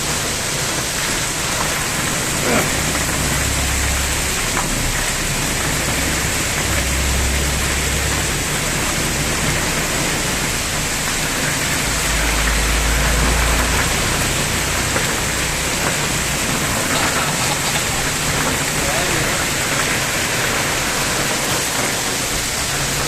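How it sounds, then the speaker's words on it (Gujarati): Heavy rain pouring at the start of summer during a storm with constant lightning, a loud, unbroken wash of noise with occasional low rumbles underneath. "જ્યારે એમાં વરસાદ આવે એટલે 3 ઋતુ ભેગી થઈ હોય એવો માહોલ આ પ્રથમ વખત જોવામાં આવી રહ્યો છે."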